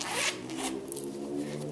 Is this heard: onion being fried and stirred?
no